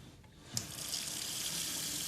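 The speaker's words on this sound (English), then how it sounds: "It's called a water tap." Water runs steadily from a tap into a sink, a continuous close hiss that starts with a brief splash and holds level throughout.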